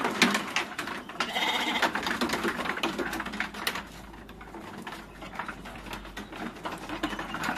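Composite crossbred sheep bleat repeatedly in a pen, several animals calling over one another in a busy, fairly loud chorus with no speech.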